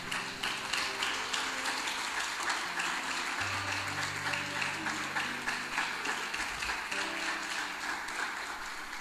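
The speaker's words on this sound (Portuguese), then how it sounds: "Uma salva de palmas para Jesus" A church congregation claps steadily for Jesus during a sermon, a broad, even wash of applause lasting the whole stretch with soft low music tones beneath it.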